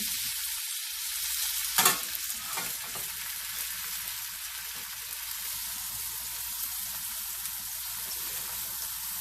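Thin-sliced Steak-umm beef sizzles in a pan with a steady, close hiss, broken early on by a sharp clatter or pop before settling into continuous frying with no talking.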